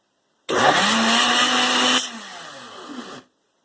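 A kitchen blender runs loud and steady as it liquefies a French onion soup broth, then the pitch drops as the motor slows before cutting off abruptly. No voices.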